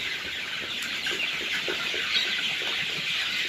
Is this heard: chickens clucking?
yes